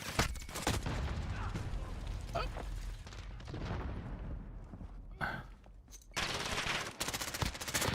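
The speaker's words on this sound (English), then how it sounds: "He's blind firing." Rapid automatic gunfire from blind firing in the Battlefield 2042 beta, loud bursts of rattling shots with brief gaps and a few heavier booms, continuing through most of the stretch.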